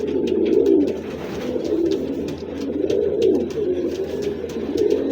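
Pigeons at a seller's coop coo steadily in a close, continuous chorus of low throaty calls that overlap and swell without pause.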